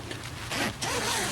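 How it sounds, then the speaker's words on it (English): Double zipper being drawn along the door of a Big Agnes Slater UL2+ backpacking tent, a few quick ripping pulls at close range with no talk. "Have a double zipper on the door as well. Makes getting in and out a little easier."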